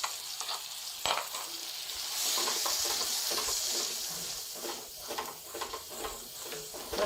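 A chicken and vegetable pasta mixture is stirred in a pan, giving a soft steady sizzle with scraping spoon strokes and light clinks, close and fairly quiet, with no voices.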